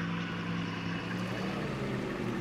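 LEGO car mod in Farming Simulator 22 driving at extreme speed, heard as a steady, dense engine drone with a broadband rushing roar, constant and fairly faint throughout.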